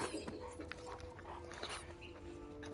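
A dog in the video game The Last of Us Part II whimpers and yips softly against quiet in-game ambience, a faint, intermittent sound.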